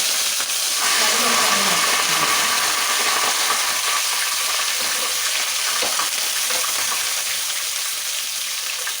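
Fish frying in hot oil over popped mustard seeds, a steady close sizzle and hiss filling the whole stretch, with faint stirring clinks in the pan.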